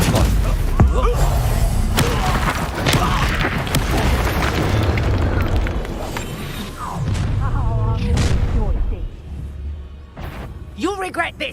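Confringo blasting spell detonating in Hogwarts Legacy, a run of loud booming blasts and thuds with crackling debris, close and dense, while voices shout over the combat.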